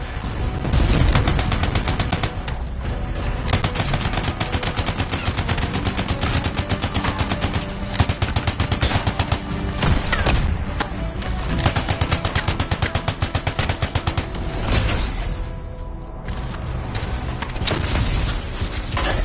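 Sustained rapid heavy gunfire from a large gun in the video game Anthem, a dense continuous barrage of loud automatic shots with booming low end lasting throughout, with no voices.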